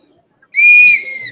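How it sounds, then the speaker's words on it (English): A single steady whistle blast during a live-streamed art show, close and clear, holding one pitch for just under a second before fading slightly. "Blow your whistle."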